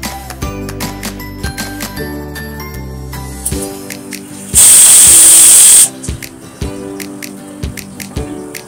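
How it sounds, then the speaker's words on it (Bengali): A pressure cooker of paneer khichdi lets out one loud, sustained hissing whistle lasting over a second, rising out of a kitchen scene with clinking, tapping and soft background music before and after. "ভালো করে নাড়িয়ে তারপর আমি ঢাকা বন্ধ করে সিটি হতে দেবো, 4টে সিটি দেবো"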